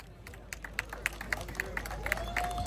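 Audience applause at an awards ceremony for the fastest finishers of a half marathon in Kyiv, scattered, faint claps from a distant crowd, sparse and irregular over a few seconds.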